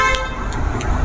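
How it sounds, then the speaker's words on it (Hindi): A car horn gives a short, loud honk that repeats in quick bursts over about a second, with no one speaking. "हाँ, पहले हॉर्न बजा लो।"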